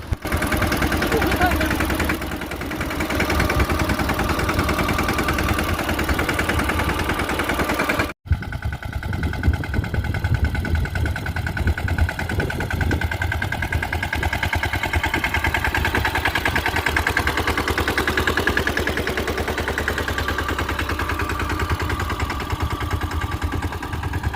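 A tractor engine runs steadily in a peanut field during irrigation work, a loud, continuous droning rumble with a brief break partway through, and a voice can be heard talking over it.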